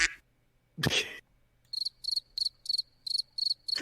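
Crickets chirping in a steady run of short high pulsed bursts, fairly close and clear, after a brief noise, with a faint low hum underneath.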